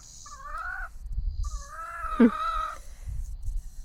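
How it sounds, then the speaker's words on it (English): A chicken gives a few short, harmonic clucking and squawking calls at close range over low background rumble, with a brief sharper squawk near the middle and no talk. "And there's a chicken."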